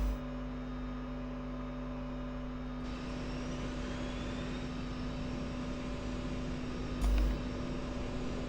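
A MiG-21 jet engine starts up in a flight simulator, a steady droning hum with a rising whine that builds after a few seconds, and a brief click or thump near the end.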